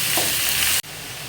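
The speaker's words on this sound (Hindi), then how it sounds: "अब इसको अच्छे से भून लेना है, अच्छे से भून लेना है" Cumin seeds and salt dry-roasting in a pan over lowered heat, a steady close sizzling hiss that cuts off abruptly partway through, with no talking.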